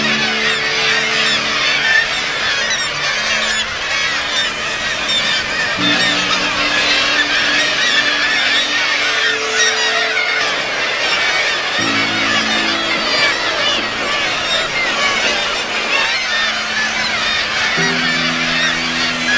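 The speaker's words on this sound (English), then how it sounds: "Such great gatherings of birds can't be found many places," A large seabird colony clamours at an Arctic bird cliff in Varanger, a dense, continuous din of overlapping honking and squawking calls at steady loudness throughout.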